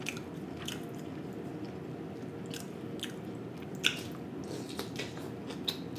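Whole fried fish with the head on is eaten close to the mic, with soft wet chewing and a few sharper bites over a steady low background hum.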